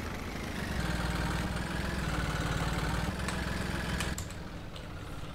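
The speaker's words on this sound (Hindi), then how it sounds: "यहाँ पे तो अपना ट्रैक्टर तो खतरनाक ही चल रहा है भाई" Tractor engine idling and running steadily in Farming Simulator 22, a continuous low mechanical drone with a faint click near the end, heard alone without talk.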